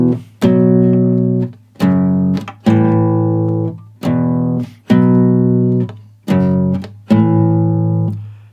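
Guitar strums a power-chord riff from a song, seven loud, evenly spaced chord hits each ringing and decaying before the next, played alone and close.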